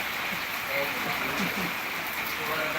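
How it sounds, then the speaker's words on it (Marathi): Heavy rain pours steadily in Nagar, a constant broadband hiss with no letup, while people talk over it in the foreground. "चाललाय पाऊस जोमात एकदम"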